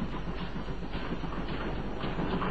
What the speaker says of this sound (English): The famous sealed train that no one might leave nor enter on its journey.